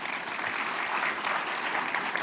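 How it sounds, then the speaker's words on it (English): Audience at a museum lecture on European masterpieces applauds to welcome a speaker to the stage, a steady wash of many hands clapping at even volume. "Yes, a round of applause, thank you."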